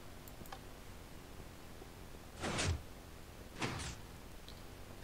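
A door in the video game Hatventure sounds as two distinct sliding or opening noises about a second apart, each a short broadband whoosh-like clunk over a quiet background, with faint ticks earlier.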